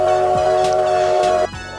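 A toy train running on its track, with a loud steady electronic whistle tone and rhythmic clicks of the wheels over the track joints before the whistle cuts out.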